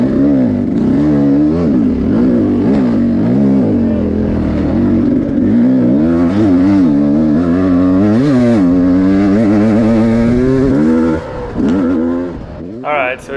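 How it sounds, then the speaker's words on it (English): An enduro motorcycle revs hard on a race course, a loud close engine rising and falling in pitch through repeated throttle blips, heard from onboard with a voice talking over it. "you can hear Mario's bike rev up"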